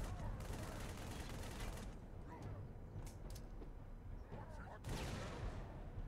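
Automatic weapon fire in Halo 3, dense bursts of shots in the first two seconds, then scattered shots and a final burst near the end, loud over a constant rumble of battle noise.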